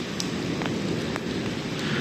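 Heavy rain pouring down during a severe storm on a farm, a loud, steady dense hiss with scattered sharper drops, continuous throughout with no voices.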